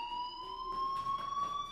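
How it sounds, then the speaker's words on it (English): A school fire alarm in the video game Life Is Strange, a sustained steady electronic tone with a buzzing edge that stays constant and moderately loud under faint background game sounds. "Hey, do you hear that fire alarm?"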